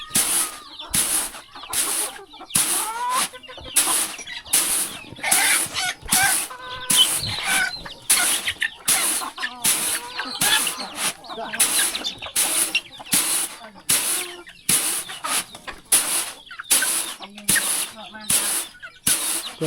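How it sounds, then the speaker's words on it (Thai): Chickens in a rural village in a remote Lao valley, clustering around the listener with loud repeated clucks and squawks in quick bursts throughout, close by, with a voice speaking at times. "โอ้ไก่มาหุ่มเราเลย"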